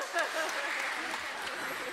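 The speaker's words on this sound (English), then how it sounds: "Big round of applause." Church congregation applauding during a Sunday service, a dense steady wash of clapping from the room with a few voices and cheers mixed in, moderately loud and continuous.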